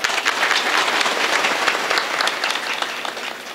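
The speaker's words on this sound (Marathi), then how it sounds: "यांच्यासाठी टाळ्या वाजवायच्या." An audience claps steadily through a Varkari kirtan in honour of the performers, a dense, even wash of applause held at full loudness from start to finish with no voices above it.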